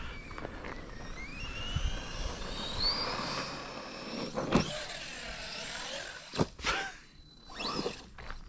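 A Team Associated Rival MT10 RC monster truck runs at full throttle with a whining electric motor, and its pitch rises and falls as it passes, followed by a few sharp whooshing bursts near the end.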